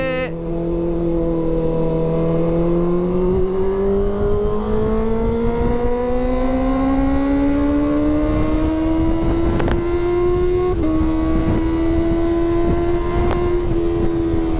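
A Kawasaki ZX25R motorcycle speeds through an evening ride, its high-revving engine whining loudly and steadily throughout, the pitch climbing gradually as it accelerates and dipping briefly at a gear change, with wind noise underneath.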